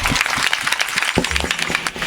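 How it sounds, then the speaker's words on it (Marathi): An audience at a religious kirtan gathering breaks into brief, dense applause, a crowd of hands clapping close and loud for about two seconds. "एकदा आमच्या सृष्टीताईंसाठी एकदा जोरदार टाळ्या वाजवा"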